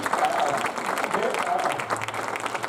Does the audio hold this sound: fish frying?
no